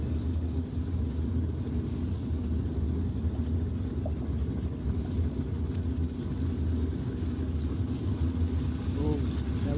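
A race car engine roars through a burnout at the Aeroflow Race4Real NPRA drag racing event, a dense, steady low rumble heard from a distance and holding level for the full stretch, with faint crowd and commentary noise underneath.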